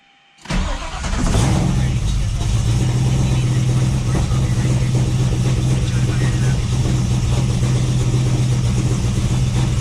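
A Ford Falcon XB GS engine cranks and fires after a brief quiet start, then settles into a loud, steady idle that runs to the end, with a strong low rumble throughout.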